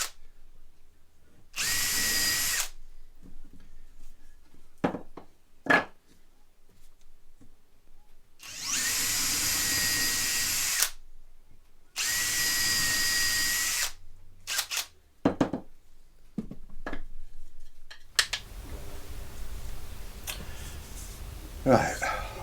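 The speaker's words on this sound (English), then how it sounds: "Right, just countersunk these." A power drill countersinks screw holes in wood in three loud bursts of a few seconds each, separated by quiet handling knocks, with a person talking near the end.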